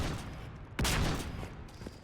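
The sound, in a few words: gunfire in video game Mass Effect 3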